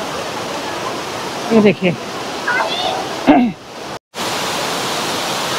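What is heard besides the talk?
waterfall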